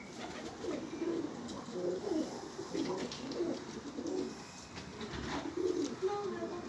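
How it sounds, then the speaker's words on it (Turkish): A white pigeon caught on a home balcony coos steadily in low, repeated throaty rolls, close and moderately loud over a constant background hiss. "Annem beyaz kuş tutmuş gördün mü?"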